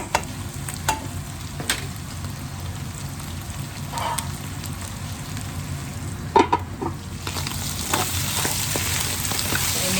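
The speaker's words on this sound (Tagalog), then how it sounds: "Okay, so isimmer muna natin to nang maluto ang ating talong. Takpan natin to" Eggplant simmering in pork lard in a covered pan gives a steady close sizzle and crackle, with a brief clink of the lid partway through.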